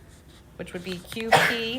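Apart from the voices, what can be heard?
sneeze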